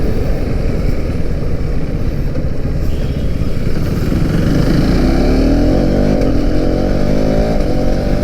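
A third-generation KTM Duke 390 motorcycle roars under way in a loud, continuous engine drone with wind rush, pitch rising and shifting as it accelerates through gears, heard close from the rider's position.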